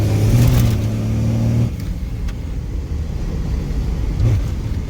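A stock 12-valve diesel dually truck engine revs hard under heavy boost during a test drive, a loud low rumble with rising tone for the first second and a half, then a steadier, lower drone of the running engine.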